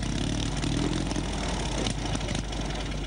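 A small wooden motorcycle's engine runs steadily and close by, a continuous buzzing, rattling drone with no pauses.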